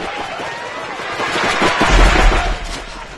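Rapid paintball gunfire in the Greg Hastings Paintball 2 video game, with dense overlapping bursts of popping shots and a heavier rumble swelling midway, loud and continuous.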